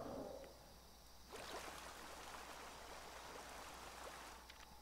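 Flowing water placed in the Prehistoric Kingdom video game, a soft steady trickling rush that rises after a faint start and runs evenly, quiet and alone.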